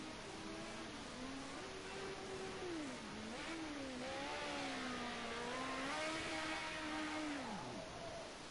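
Group A Ford Sierra Cosworth race cars at Bathurst, a single engine note rising and falling through gear changes as one car passes by at a distance, loud and continuous with no talk.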